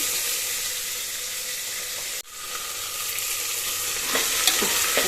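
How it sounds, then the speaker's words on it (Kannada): Sprouted chickpeas sizzle and crackle in hot tempering oil, a steady frying hiss with a brief stir and clatter in the middle. "ಸ್ವಲ್ಪ ಫ್ರೈ ಮಾಡ್ಕೋಬೇಕು ಇದನ್ನು ಕಾಳು ಎಣ್ಣೆಯಲ್ಲಿ ಒಗ್ಗರಣೆಯಲ್ಲಿ"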